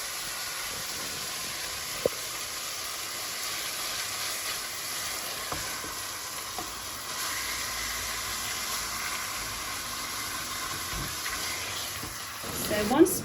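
Beef browning in a pan with no other ingredients, a steady broadband sizzle running throughout with occasional soft stirring clicks and a louder clatter near the end; no talk over it.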